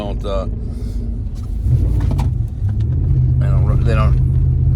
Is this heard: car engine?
yes